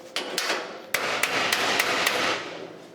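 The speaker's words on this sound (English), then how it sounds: "that's a dolly I use for fender lips. And here it's working out perfectly to sit right in there, back this up, hammer it down" Metal hammer blows on a 1963 Thunderbird front bumper fender lip, struck over a dolly: about seven sharp, ringing strikes spaced irregularly, close and loud, over a steady background hiss.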